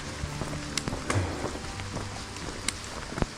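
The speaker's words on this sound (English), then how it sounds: "Starting to rain again, but it should just be a short shower" Rain begins falling on a hike along the Cades Cove Loop in the Smokies, a light patter of scattered drops on surfaces over a steady soft outdoor hiss, with no one speaking.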